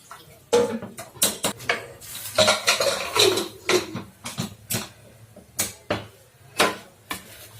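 Metal pot and utensils clatter and clink near the stove while vegetable dalia khichdi is readied for a ghee tempering: a close, irregular series of sharp knocks, scrapes and taps with no talking.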